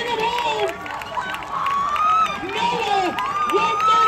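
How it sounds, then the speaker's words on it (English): A crowd at an 800m invitational track race cheers and shouts for a runner nearing the finish, a steady roar of excited voices with an amplified announcer talking loudly over it throughout. "Clap it up for him, ladies and gentlemen. Bring him home. Louder, come on, bring him home."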